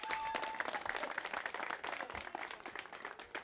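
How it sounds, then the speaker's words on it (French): Applause from a crowd at an event in Gabon, a dense, fairly faint wash of many hands clapping that runs steadily throughout with no talk over it. "applaudissez pour vous."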